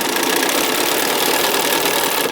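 A sewing machine stitches a quilted mug rug, running at a constant loud, rapid mechanical whir and buzz with no pauses. No voices.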